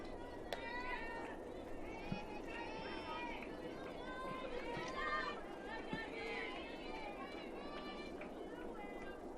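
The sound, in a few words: crowd at college baseball game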